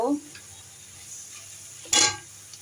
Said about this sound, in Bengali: তো এখন আমি মশলাকে কষিয়ে নিচ্ছি পেঁয়াজ মরিচ রসুন দিয়ে